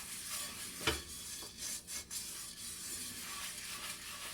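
A halved potato rubs salt around inside a cast iron skillet, making a faint, steady gritty scraping with a few soft bumps and strokes, close by, with no talking.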